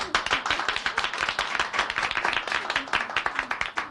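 A studio audience at a comedy talk show claps in a brisk, crisp patter of many hands, fairly close and even, carrying on steadily throughout.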